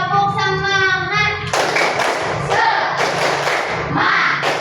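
Classroom of children clapping in rhythm as a group, a burst of loud claps and chanting following a teacher's spoken prompt, with voices throughout.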